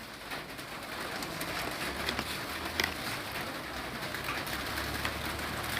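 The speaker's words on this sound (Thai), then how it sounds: "ฝนก็ตกสวดๆ" Rain falls steadily and heavily outdoors during a Thai home cooking session, a dense, even hiss that runs the whole time, with a pigeon or dove cooing low in the background.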